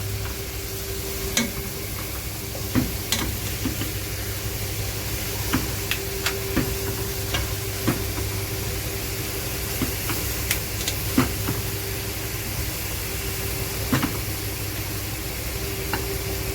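Chicken and other ingredients fry together in a single pot for chicken mandi, a continuous close sizzle broken by scattered sharp clicks and scrapes as a spoon stirs the mixture.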